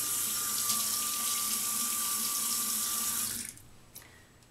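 A bathroom sink tap runs steadily as water is used to moisten the face during a nightly skincare routine. The close, even rush continues for about three seconds, then cuts off, leaving a few faint drips and small handling sounds.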